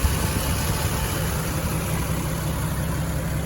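A Jeep 4.7 liter stroker engine with a BBK 62 millimeter throttle body runs at a steady idle, a loud, even low rumble and drone close by, with no voices.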